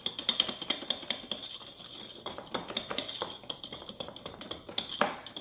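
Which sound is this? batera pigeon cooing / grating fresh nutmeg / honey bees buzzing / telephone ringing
grating fresh nutmeg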